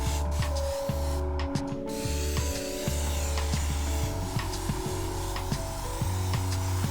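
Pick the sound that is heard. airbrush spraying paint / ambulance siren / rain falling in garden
airbrush spraying paint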